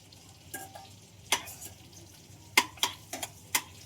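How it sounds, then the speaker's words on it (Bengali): An egg frying in oil in a pan, worked with a spatula: a series of quick, light scrapes and clinks spaced irregularly over a faint, low sizzle, heard up close. "এই যে ডিমটা ভাজা হয়ে গেছে"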